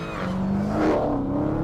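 Supercharged 6.2-litre Hemi V8 of a Dodge Challenger SRT Hellcat with a 2.4-litre supercharger, a steady loud engine roar carrying a rising whine through the short burst.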